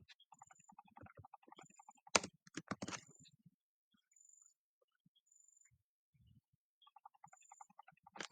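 Faint keystrokes on a computer keyboard come in short bursts with quiet gaps, including a couple of louder clicks, during a plotting tutorial.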